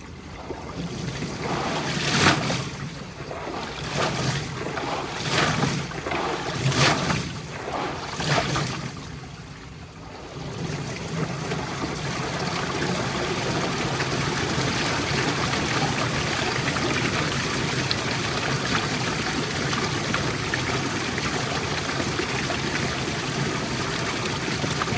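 Water gushing out while a radiator is flushed, a loud rushing flow with splashy pulses at first, then settling into a steady continuous stream.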